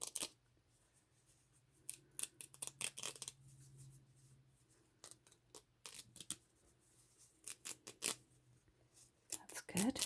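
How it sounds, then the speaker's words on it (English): Scissors snip through paper in quick, close, irregular cuts, with faint crinkling and rustling between the snips and a soft voice talking quietly. "We're on the scissors."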